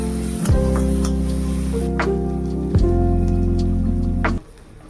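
Grated coconut sizzles loudly in hot oil in a pan with cumin powder, cooking down for a taro-leaf ghonto; steady frying hiss with a couple of stirring scrapes, cutting off just before the end.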